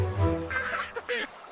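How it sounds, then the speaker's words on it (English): A cartoon duck gives a short, bright quack, a couple of brief nasal honking bursts, close and clear with nothing behind them. "Quack!"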